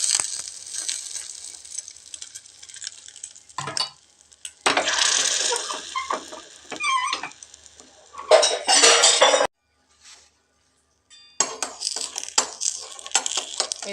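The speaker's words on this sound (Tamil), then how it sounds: "மெதுவாக லேசாக கிண்டி விட்டு திருப்பி விட்டுக்கலாங்க" Chicken liver stirred and flipped with a metal ladle in a pan with ghee, making close, loud bursts of scraping and clinking separated by short silent pauses.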